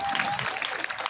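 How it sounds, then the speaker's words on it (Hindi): A short burst of dense clapping from a crowd at a Rudra Mahayagya religious gathering, honouring the sisters, with a voice speaking over it. "मेरी बहनों के लिए एक जोरदार ताली बजनी चाहिए"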